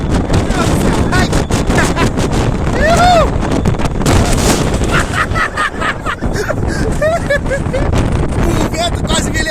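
Strong wind on the Serra da Estrela mountain roars and buffets the microphone continuously, with excited voices shouting and talking over it.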